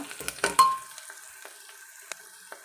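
Vegetables sautéing in a pan with turmeric for jowar uppittu, a quiet sizzle behind a few close utensil clacks at the start, then sparse faint taps against the pan, no voices.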